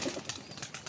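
A pigeon flapping its wings in a loft, a quick flurry of soft rhythmic wingbeats heard up close but faint, with no talking.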